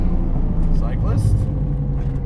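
Modified 400+ hp FD Mazda RX7 with a rotary engine and a large 8374 turbo, revving hard as the turbo spools up, with a loud, steady engine roar close by and talk over it.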